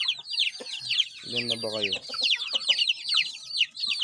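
A hen and her chicks in a yard: rapid high chick peeps run throughout while the hen gives a low throaty cluck near the middle, close and fairly quiet, with a person speaking briefly.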